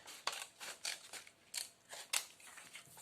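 Scissors snip through traced paper shapes being cut out for a handmade thaumatrope, giving about seven crisp, close cuts in an uneven rhythm with no talk.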